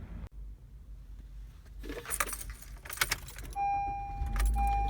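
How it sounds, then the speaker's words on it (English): Keys jangle and click in an ignition before a car engine turns over and settles into a low idle, followed by a steady electronic chime, all close inside the cabin. "All right, I started my car."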